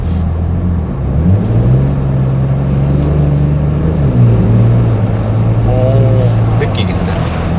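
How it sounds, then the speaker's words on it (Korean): A new third-generation Porsche Panamera with its sport exhaust switched on: a low, steady engine drone with a few small shifts in pitch, running under two people talking inside the car. "스포츠 배기가 확실히 좋아졌어요"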